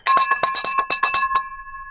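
A bright bell with a glassy, ringing tone is struck repeatedly in quick succession in an office setting, then its tones ring out and fade.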